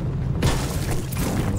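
A deep, heavy boom erupts over steady noisy rumble, a single cannon-like blast in Fortnite Battle Royale, loud and close.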